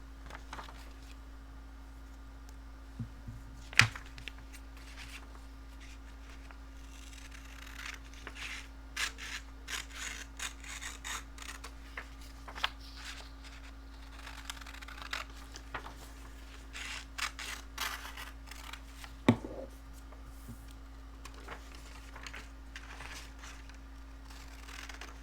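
Scissors snip through a paper page with scattered soft crunches and rustles. A couple of sharper clicks stand out against a quiet background hum.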